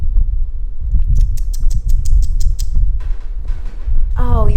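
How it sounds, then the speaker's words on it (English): Short creaks from a cat moving about on a table indoors, with a run of faint rhythmic high ticks and rustles, then a brief voice-like tonal sound near the end. "I kept hearing this creaking noise"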